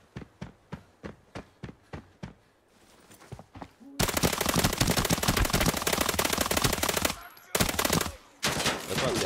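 Rapid automatic gunfire from a new gun in the video game Arena Breakout, opening with spaced single shots and then breaking into dense, loud sustained bursts with short pauses between them.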